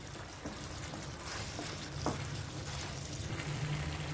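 Potatoes with spices cook in a covered pan on the stove, giving a low, steady simmering sizzle, quiet and close, with no voices.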